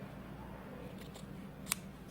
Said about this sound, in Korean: 이 바이어스 천만 오려주는 거예요